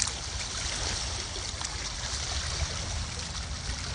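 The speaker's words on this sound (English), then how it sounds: "Let me show you the water one more time before I get out of here." Water of a river in East Lansing flows in a steady broadband rush without pause, fairly close, with no voices over it.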